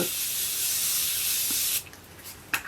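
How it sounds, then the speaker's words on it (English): A steady close spray hiss of face mist lasting nearly two seconds, then stopping, followed by faint small handling sounds. "I think I'm going to spray my face"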